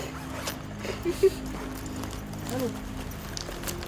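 A bag's zipper is pulled open in a drama scene, a short quick zip standing out against a quiet, steady background hum.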